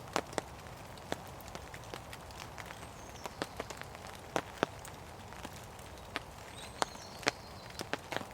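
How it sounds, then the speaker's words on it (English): Rain pattering on a tent roof while wild camping in heavy rain, irregular sharp drops tapping against the fabric over a soft steady hiss, close and fairly quiet, with no voices. "Sound of rain on the top."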